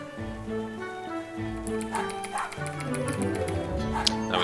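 A dog barks a few times in the video game Distraint 2, short yips over a steady game music bed, moderately loud, with no one talking.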